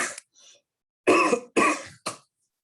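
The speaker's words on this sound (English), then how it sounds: "I think I'm coughing out the last of it there" A man coughs close to the microphone during an exercise demonstration: a small cough, a faint breath, then three harsh chesty coughs in quick succession, the last one shorter.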